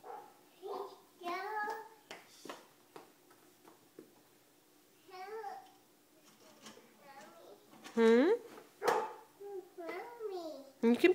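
A few yips and short barks from a dog mixed with a child's chatter and adult talk nearby, sounding intermittent and moderately close.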